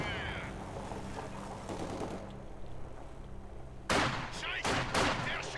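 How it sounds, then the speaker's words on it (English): Battle sounds from the strategy game Company of Heroes 2, a steady rumble of distant combat, then sharp, loud blasts and bursts of gunfire toward the end, with a voice speaking briefly underneath. "Mortar attack!"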